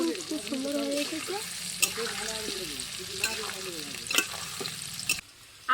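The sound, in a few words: potatoes with turmeric frying in a pan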